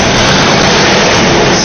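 Cadillac DeVille rolling along on cruise control, captured as a loud, steady roar of engine and road noise with no voices.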